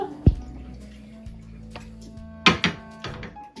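Sprouting seeds being rinsed and drained with water in a kitchen: a sharp splash, then trickling and dripping, a burst of clattering handling sounds, and a few separate drips and knocks near the mic.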